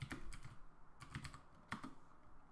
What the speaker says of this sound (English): and I'll type hello world.